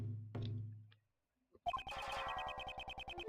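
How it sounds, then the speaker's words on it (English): A bell-like chime accompanying a character's appearance in the video game Ace Attorney Investigations 2, rising after a brief low tone and a short silence into a bright, rapidly repeating ringing pattern with steady pulses. "His appearance is always accompanied by the sound of a bell."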